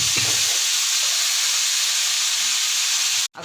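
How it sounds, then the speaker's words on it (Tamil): Chopped tomatoes fry with onions in a hot pan for an egg gravy, giving a steady, loud sizzling hiss that runs without a break before cutting off abruptly at the end. "தக்காளி போட்டு அதுலேயே ஃப்ரை பண்ணுறாங்க."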